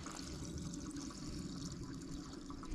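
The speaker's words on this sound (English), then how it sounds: "Now we're just gonna throw a couple gallons of gas in this thing" Gasoline pours steadily into the fuel tank of an old Kia van, a continuous sloshing, gurgling stream heard close up with no talking.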